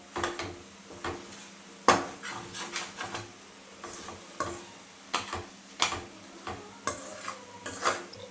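A spatula stirs egg pepper fry masala in a pan, giving repeated scraping and clinking strokes in an uneven rhythm over a light sizzle, close and fairly loud, with no talking.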